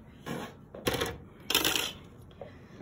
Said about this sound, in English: So I'm just gonna quickly die cut that so we can see what the end result is.